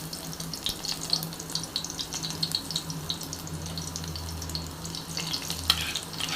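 Garlic cloves fry in hot oil in a pan for a prawn curry, giving a steady close crackling sizzle with scattered pops and a low background hum throughout.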